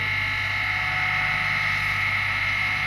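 Rotor spinning steadily during a balancing test with a Falcon Oneprod analyzer, a constant close machine hum and whine with no breaks.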